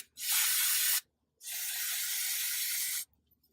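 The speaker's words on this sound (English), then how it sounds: "We'll clean those up just a little bit with some brake cleaner." Brake cleaner sprayed onto two washers from an aerosol can in two close, sharp hissing bursts, the second longer, with quiet between.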